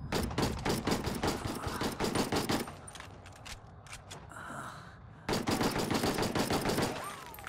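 A fast-firing gun in Ghost Recon Wildlands lets off long rapid automatic bursts, loud and close, broken by a short pause with scattered shots before the sustained fire resumes.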